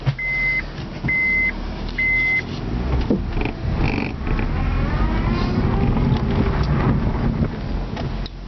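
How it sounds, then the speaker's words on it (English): Honda car on a test drive, a steady engine and road rumble with wind noise through an open window, a few electronic beeps at the start, then continuous drive noise and faint background voices. "Test drive Honda part 1."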